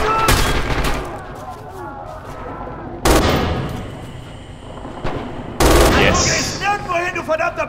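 An MG42 machine gun fires during a tractor factory assault in the Red Orchestra 2 video game, three loud sudden bursts with ringing tails amid steady combat noise, and someone speaks now and then.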